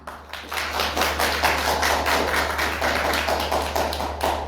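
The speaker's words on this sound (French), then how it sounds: "On peut applaudir." An audience at a Yas Comores anniversary celebration in the Comoros claps in a steady, rhythmic beat, loud and sustained throughout with no talking.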